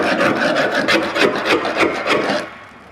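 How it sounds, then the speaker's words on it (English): A scraper works non-skid gel coat off a Boston Whaler 13 boat hull, making a close, loud series of rhythmic rasping strokes that stop abruptly. "So just scraping what I can, and then I'm gonna run the belt sander on her."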